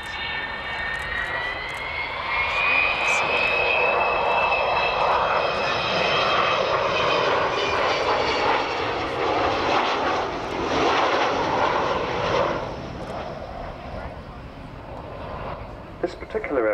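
An Avro Vulcan B2 bomber's loud jet engines roar as it passes overhead at the Royal International Air Tattoo, a rising whine over a heavy rumble that gradually fades away.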